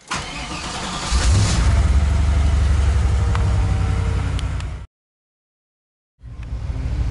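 A project car's engine drones steadily and loudly from inside the cabin on a test drive, cuts out abruptly for over a second, then returns.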